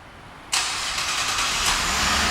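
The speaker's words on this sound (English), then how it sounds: "and the car turns right on." A gold-mist 2011 Cadillac SRX fires up by remote start: quiet at first, then the engine catches abruptly and settles into a steady, fairly loud idle hum that continues to the end.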